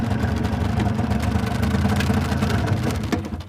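A Messerschmitt KR200 Cabriolet's small engine runs steadily at idle, close and fairly loud, with a rough mid-range rumble that begins to fade near the end as it stalls.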